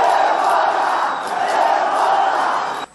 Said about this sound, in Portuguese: a torcida, completamente irritada com o juiz, gritou vergonha nas arquibancadas da arena